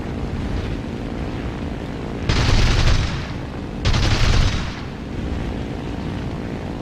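Fw 190 A5 fighter in a flight combat game firing two bursts of machine gun fire over a steady engine drone, each burst about a second long and loud, close up, with no talking.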